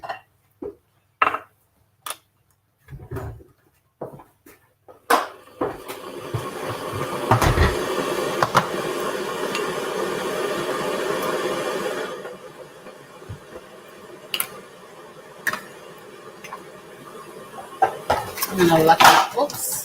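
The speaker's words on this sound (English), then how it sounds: "You're going to hear a bit of kettle noise." An electric kettle heats water for tea, giving a steady rushing hiss that lasts several seconds, with clinks and knocks of cups and handling before and after it.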